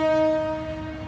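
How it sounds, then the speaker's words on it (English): An old train sits at a station in Kandy, Sri Lanka, sounding one long, steady horn blast that starts loud and fades slightly over about a second, with no voices. "And here, a wee old train."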